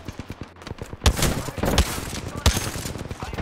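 Rapid bursts of gunfire in a battle royale shooter, several loud shots in quick succession over a busy game soundscape with background chatter.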